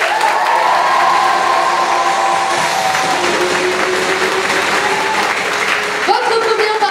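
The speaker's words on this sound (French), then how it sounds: "applaudissons la belle, la sublime, belle Alicia" An audience at a Beauty and the Beast stage show breaks into sustained applause and some cheering, a dense, loud clapping wash that carries on steadily from start to finish while a host's amplified voice comes through over it.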